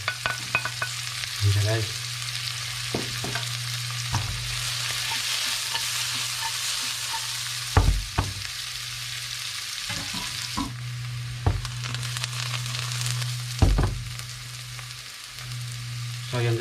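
Onion and garlic sauté in a pan with a constant sizzle, broken by sharp scrapes and clatters of stirring, and a short spoken line partway through.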